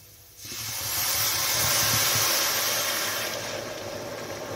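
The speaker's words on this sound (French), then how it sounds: "Vous allez déglacer au vin blanc." White wine poured into a hot pan of mushroom risotto gives a sudden loud steamy hiss that swells, holds for a couple of seconds, then eases into a steady sizzle.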